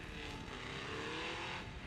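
Several drift cars racing through a corner at Watkins Glen International in the rain, a steady dense roar of engines and spray lasting throughout, fairly loud with no voices.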